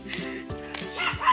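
A dog on a road gives a few short, fairly faint yips and barks in quick succession.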